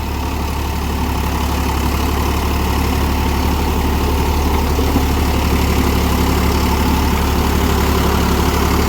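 A Mahindra YUVO 475 DI tractor engine idles steadily with a deep, even, continuous rumble, loud and close throughout, with no voice.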